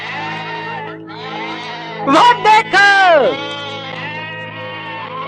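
A male goat lets out loud, close, wavering bleats in the middle, while people talk around it before and after.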